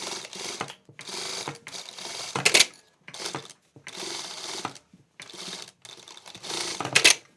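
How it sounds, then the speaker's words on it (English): A sewing machine runs a second line of twin stitching along a hoodie, stitching in repeated bursts of several seconds each with short pauses between, close and alone, with sharper clacking near the end of two runs. "Now I'll keep the first stitch as the guide and do a second stitch."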